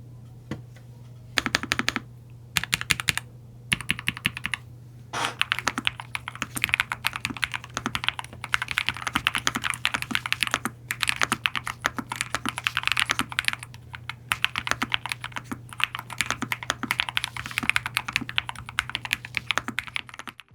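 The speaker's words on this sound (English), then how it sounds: "Typing on the Air 75 feels crisp and satisfying thanks to NuPhy's new upgraded switches." A NuPhy Air75 low-profile keyboard with red switches is typed on steadily, a fast close stream of crisp light key clicks with a faint hum underneath and no talking.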